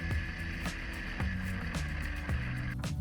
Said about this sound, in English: We can see the electric sled accelerates much faster.